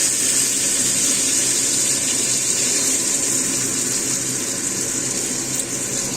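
Chopped onions hit hot oil for a tadka and sizzle with a steady, loud hiss. The bright sizzle is close and continuous, with no break.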